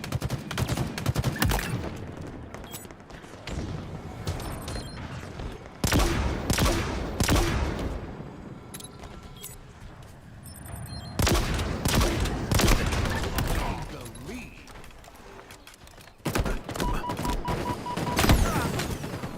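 Rapid bursts of gunfire from a shooter video game, with dense fusillades and booming shots arriving in loud waves and brief lulls between them.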